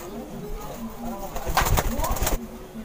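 Pigeons coo and call close by in a short burst, with a brief flutter-like rustle, while people talk in the background.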